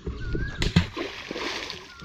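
A stone is tossed into the water at a fishing spot for karimeen (pearl spot) in Kerala, giving one sharp splash followed by brief sloshing, with faint talk and outdoor background around it.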